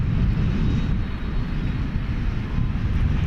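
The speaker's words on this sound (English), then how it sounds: "Airbus A321 arriving from the city of San Diego" An American Airlines Airbus A321 jet arriving from San Diego at DFW Airport at night gives a loud, steady engine roar with a broad, dense rumble that holds throughout, and no voices are heard.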